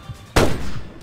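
A single sharp gunshot from a newly acquired gun fired at Bigfoot in a Yellowstone video game, a loud close crack with a booming tail that fades, a faint second report at the end.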